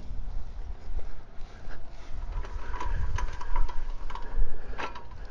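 A Kodiak Q pressure washer, about 15 years old, with a 4.5 hp Briggs & Stratton engine, runs steadily at a close, loud idle-like drone, with clanks and rattles scattered over the hum.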